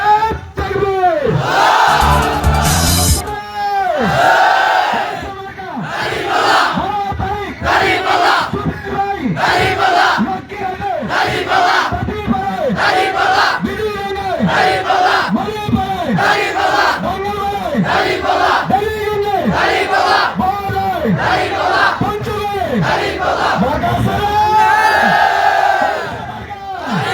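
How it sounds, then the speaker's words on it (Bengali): Large crowd at a political rally in Bangladesh chanting takbir, loud rhythmic call-and-response shouts from many voices repeating in quick bursts, with a leader's amplified cry leading each round. "শেষ একটা তাকবীর হবে, একটা তাকবীর।"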